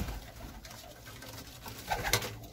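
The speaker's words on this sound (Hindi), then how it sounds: "ए मेरा शहनशाह कबूतर है जी," A high-flying Pakistani pigeon coos softly nearby, low throaty murmurs over a muffled background, with a brighter bird call briefly rising near the end.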